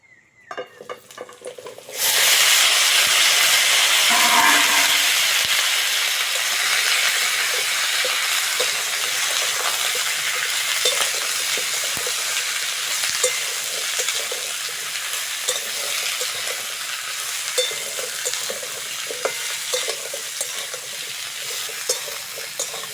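Chopped stems, eggplant and bottle gourd dropped into a hot pan where neem leaves were frying, bursting into a loud, steady sizzle that continues close up for twenty seconds with occasional stirring clicks.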